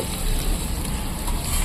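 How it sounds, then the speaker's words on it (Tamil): Onions fry in a pan while a mutton curry is being cooked, making a steady, close, crackling sizzle throughout a short stretch with no speech. "இப்போ நம்ம வந்து வெங்காயத்தை போடுறோம்."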